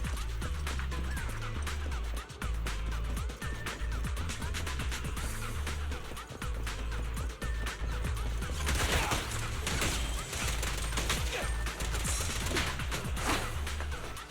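Rapid gunfire and impacts fill a Zenless Zone Zero battle, with dense bursts of shots, crashes and whooshes overlapping continuously alongside game music.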